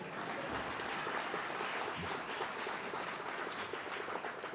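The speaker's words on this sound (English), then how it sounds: "Insert applause." Audience applause at an annual arts awards ceremony, a faint, even wash of many hands clapping from a distance that holds steady without a break.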